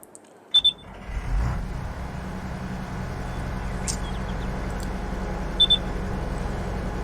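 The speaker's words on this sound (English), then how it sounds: "That beeping sound you hear, that's the sound of it being low on fuel." A farm vehicle low on fuel gives a sharp, high double beep near the start and again near the end, over a steady low engine rumble.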